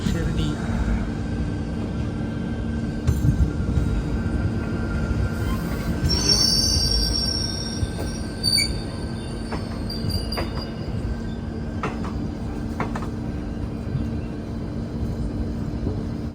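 A passenger train runs from Sainagar Shirdi toward Dadar, pulling into Puntamba junction station. It gives a steady loud rumble inside the carriage, and high metallic wheel squeals rise midway.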